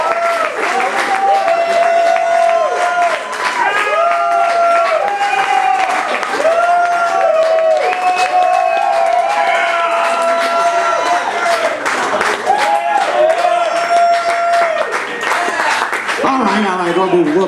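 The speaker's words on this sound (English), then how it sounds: "What a great crowd, huh?" A comedy club audience at a stand-up set applauds and cheers loudly and steadily for the whole stretch, with whistles and shouts mixed into a dense, close crowd roar.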